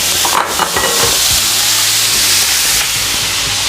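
Minced meat cooking under a lid in a pan gives a steady, dense hiss with a soft bubbling rumble and a few faint clinks, continuous and close throughout.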